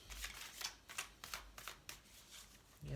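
A deck of Ancient Stones Oracle cards riffles and flicks in a quick run of crisp card snaps for about three seconds, close up and fairly quiet, with a brief low thump at the end.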